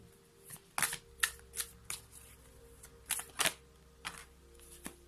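Tarot cards are shuffled close by in quiet, crisp bursts of riffling, about seven or eight separate flurries spaced unevenly over a few seconds, with no talking.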